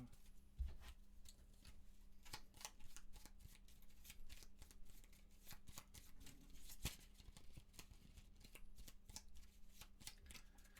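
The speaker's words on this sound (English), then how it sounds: "We do have to shuffle this." Gloomhaven cards being shuffled over and over, a steady run of crisp riffling snaps and flutters at close range with a faint low hum underneath and no talk.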